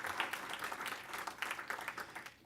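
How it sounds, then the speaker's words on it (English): Quiet, scattered clapping from a dinner audience, a soft patter of applause heard at a distance. "You should join me in sharing that applause."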